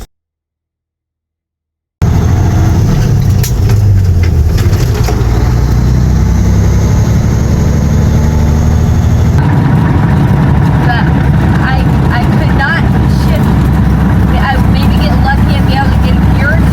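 A white semi truck's diesel engine drones loudly from inside the cab while driving, with a rumbling low roar and shifting pitch changes partway through, after a brief silent opening.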